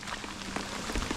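Heavy evening rain pours down beside a creek in a dense, steady wash of hiss and patter, loud and close, with no voices.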